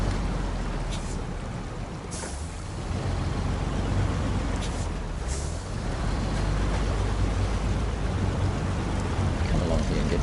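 Heavy truck in the video game SnowRunner driving down into water, a loud steady engine rumble with rushing, splashing water noise throughout, a few brief hissing bursts, and continuous and close.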